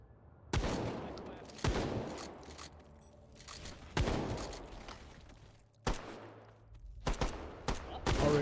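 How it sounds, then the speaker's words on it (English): Video game gunfire in a free-for-all match: loud bursts of shots and booms with ringing tails arrive in irregular volleys, some clustered quickly together, with sparse voice underneath. "Already getting shot at here."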